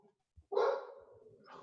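A single indoor dog bark, one sharp bark followed by a trailing yelp, fairly close and alone without talk.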